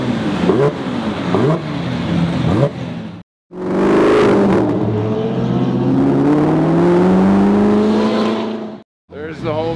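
A McLaren Senna supercar accelerates hard and loud, its engine note climbing steadily over several seconds after a short gap, with brief talk and other engine noise before it.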